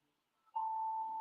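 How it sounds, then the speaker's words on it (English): An alarm sounds suddenly after a brief silence, a single sustained electronic tone that holds steady and loud to the end. "sorry, my alarm went off."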